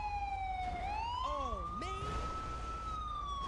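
A wailing ambulance siren sweeps up and down steadily, joined briefly by a second yelping siren tone, heard from a moderate distance over low traffic rumble.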